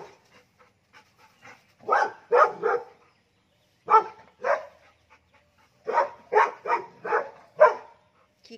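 A Labrador barks in bursts at a cow during a morning walk through a garden, several loud, close barks in two clusters with short pauses between, no talk over them.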